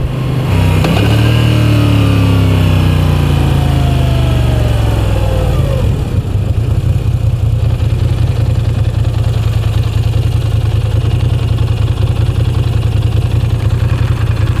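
A 2016 Moto Guzzi V9 Bobber engine heard while riding, a loud, close, steady throbbing drone whose pitch sweeps down early on before settling into an even rumble, with no talk.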